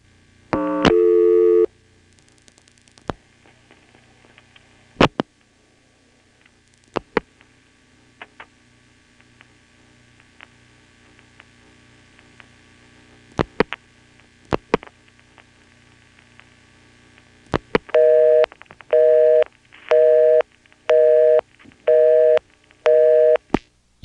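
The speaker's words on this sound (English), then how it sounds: "We dialed 3111 and got a busy signal." A busy signal on a 1977 NX1-E telephone exchange trunk in Vanceboro, North Carolina: scattered clicks and ticks over a faint hum, then a clear tone that pulses on and off in a steady rhythm.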